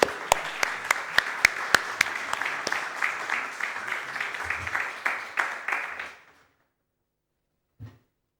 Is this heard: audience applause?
yes